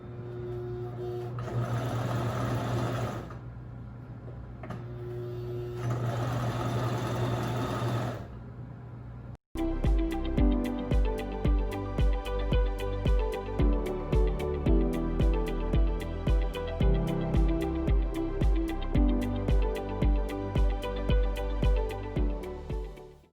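A sewing machine stitches fabric for a homemade mask, first in two steady whirring runs with a pause, then a loud close rhythmic thumping stitch pattern that continues to the end, with no talking.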